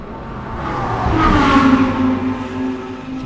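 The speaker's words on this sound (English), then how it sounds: "it sounds like one engine going past as the two cars pass our commentary booth" Endurance series race cars sweep past a trackside commentary booth, a loud engine note that rises to a peak midway and then fades, sounding close.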